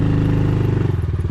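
A motorcycle being ridden in second or third gear, its engine a steady, loud, close throbbing drone with a slight wavering in pitch toward the end.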